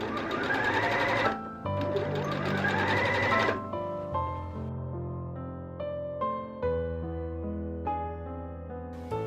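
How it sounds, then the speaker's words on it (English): A sewing machine stitches a fabric strip around a garment neckline at a quarter-inch seam, a fast mechanical whir in a few short runs, then stopping and restarting with a lower, slower hum. "We are going to stitch that down with 1/4 of an inch seam allowance."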